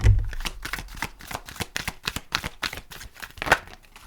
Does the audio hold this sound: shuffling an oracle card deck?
yes